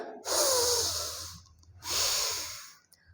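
Two long, deep breaths out during a seated Utthita Padmasana yoga pose, close and audible, with a short pause between them and no speech.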